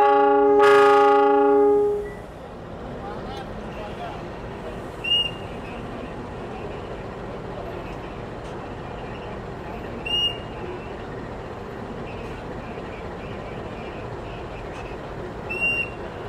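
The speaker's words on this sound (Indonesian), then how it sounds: "untuk proses pemasangan lokomotif itu dipandu oleh juru langsir ya, yang bantu markirin lokomotif teman-teman" A locomotive couples to KA Brawijaya train cars. A loud horn-like blast opens, then a steady mechanical rumble follows with three faint, brief metallic clanks spaced a few seconds apart.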